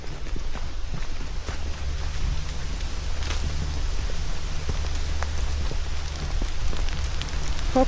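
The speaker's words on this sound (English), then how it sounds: "Oh, here comes the rain." Steady rain patters on a sumac grove, with scattered distinct drops and a low rumbling background throughout.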